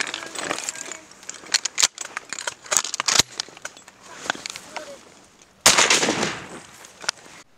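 Shotgun blasts ring out during a waterfowl hunt for ducks, a series of sharp, loud cracks at irregular intervals with one heavier report near the end, mixed with rustling and handling noise.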